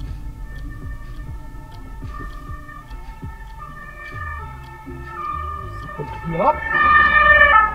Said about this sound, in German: Krankenwagen kommt